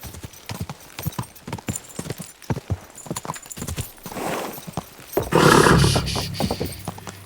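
Horse hooves clip-clop steadily on a path in Kingdom Come Deliverance II, close and rhythmic, building to a louder burst of movement near the end with no talk.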